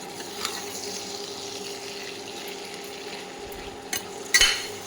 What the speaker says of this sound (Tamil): அப்புறம் 1 டீஸ்பூன் வத்தல் பொடி போட்டு நல்லா கிளறி விட்டுக்கோங்க